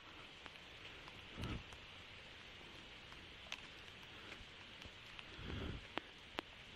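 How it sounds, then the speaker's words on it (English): Light, steady rain patters near a campsite with scattered drops, and a couple of louder rustling thumps punctuate the otherwise even hiss. "God, it's starting to rain."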